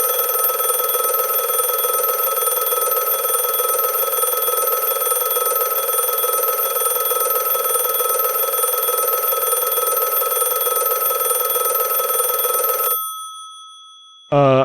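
A telephone rings with an incoming call, a loud, steady electronic bell tone that holds for about thirteen seconds, then stops abruptly, followed by a brief sound at the very end.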